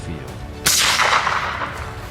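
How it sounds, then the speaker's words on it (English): A single sharp gunshot cracks loudly across an open field during a night wild boar hunt, followed by a long echoing decay that rolls away. "Gunshots echoed across the entire field, and at last, the final herd fell."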